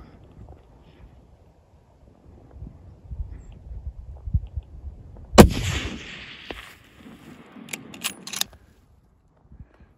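A single loud, sharp rifle shot cracks out on a moose hunt in British Columbia, followed by a few fainter knocks, with light wind and quiet outdoor stillness before and after.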